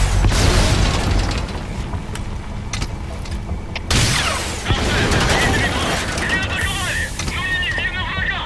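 Rocket launcher explosions and bursts of gunfire in Metal Gear Solid V: The Phantom Pain, a dense stretch of booms and pops with a sharp blast midway, followed by a clatter of fainter bangs under game sounds.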